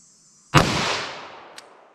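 A single sharp, loud revolver shot firing 180 grain ammunition at close range, with a brief decaying echo and a faint click afterward, outdoors with no talking.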